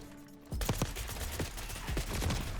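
A rapid-fire Maelstrom shotgun in Black Ops 6 blasts repeatedly, with loud, close, punchy shots arriving in quick irregular succession after a brief quiet start.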